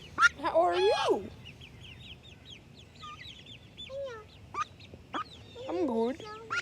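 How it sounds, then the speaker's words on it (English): Young chicks and ducks chirp and quack close by in loud, irregular bursts of high peeps and nasal calls, with a voice talking over them at moments. "I got my chicks."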